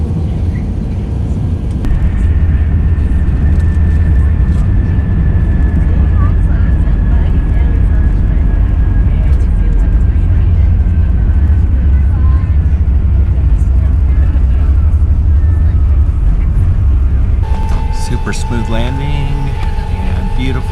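A steady, loud low roar of cabin and engine noise fills the interior of a Qantas airliner on approach into Sydney after a 15-hour flight, with a faint tonal whine above it and a brief shift in the hum near the end.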